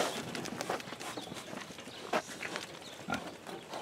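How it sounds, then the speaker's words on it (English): A show pig being handled outdoors, its grunts and snuffles mixed with shuffling footsteps and hoof scrapes, with louder bursts near the middle and end. "Here's her piggy."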